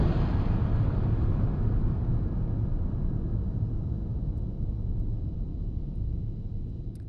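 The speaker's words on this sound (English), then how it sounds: "And then we have a big impact from Ombrisphere." A big cinematic impact effect from the Ombrisphere library, heard as a dense, roaring low rumble with airy noise that rolls on for several seconds and slowly tapers, with no voices present.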